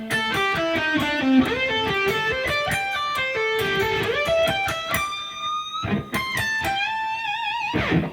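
Distorted electric guitar plays the closing run of a solo, with fast descending picked notes and then sustained bent notes, clear and alone without any voice.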